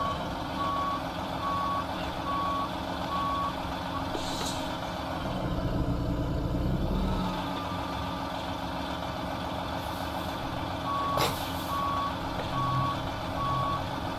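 Reversing beeps from a Peterbilt 389 truck in American Truck Simulator sound in a steady repeating series at the start and again near the end, over a constant rumbling diesel idle with a brief air-brake hiss in between.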